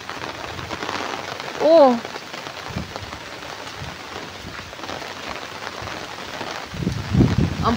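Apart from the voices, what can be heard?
heavy rain falling on rice field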